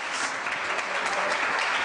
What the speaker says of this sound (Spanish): quiero que oigan los aplausos de la CLA